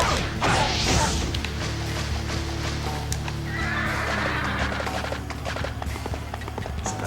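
A horse neighs loudly, with clip-clopping hooves and clashing battle sounds, in the video game Dynasty Warriors 4, near and prominent throughout.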